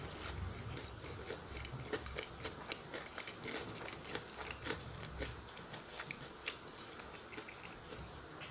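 Someone bites and chews KFC hot and spicy fried chicken up close, a quiet run of repeated crisp crunches at a steady chewing rhythm.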